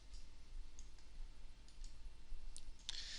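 Computer mouse buttons clicking a few times, sharp and quiet, scattered over a faint hissy background with one crisper click near the end and no voices.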